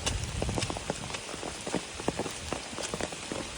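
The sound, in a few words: rain falling during a storm on the Appalachian Trail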